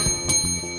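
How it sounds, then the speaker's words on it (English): A small bell or chime rings briefly in a Better Call Saul scene, a short bright strike over a quiet room tone with a faint thump before it. "the bell was Bob's idea to add on the day of filming"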